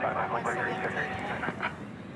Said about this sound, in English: our second tri-jet of the night pushing back